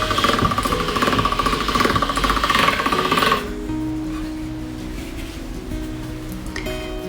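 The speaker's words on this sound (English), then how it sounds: "If you have kids, they typically love to turn the pasta machine." A hand-cranked pasta machine rolls beet pasta dough, giving a loud rhythmic mechanical rattle that stops abruptly midway, leaving a quieter steady hum behind.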